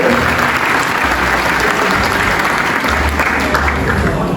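An audience at a carnival evening staged by VV De Gangmaekers applauds a performer with dense, steady clapping that stays loud and even throughout, with no voices above it.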